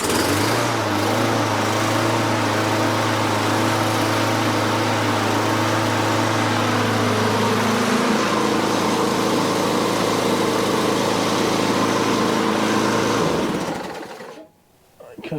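A Briggs and Stratton small engine fitted with a brand new carburetor runs fast and steady at close range for about thirteen seconds, then cuts out abruptly near the end.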